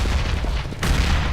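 A grenade explosion in Counter-Strike: Global Offensive, a loud sudden boom that bursts in partway through after a stretch of low rumbling game noise, with the blast rolling on to the end.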